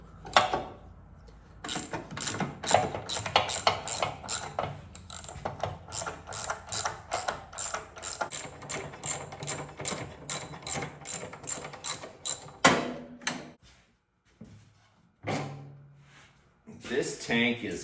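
A hand ratchet clicks rapidly and unevenly while unbolting the fuel tank on a Massey 35 tractor with a Continental Z134 engine, in close bursts of pawl clatter separated by brief pauses and a few clunks.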